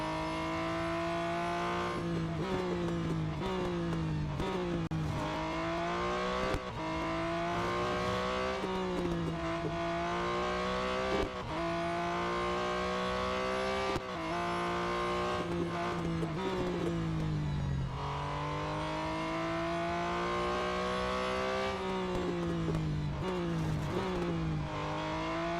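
Race car engine from the Real Racing 3 video game, steady and loud throughout, with repeated gear-shift drops and rising revs as the car accelerates, brakes early into corners and climbs again, no one speaking over it.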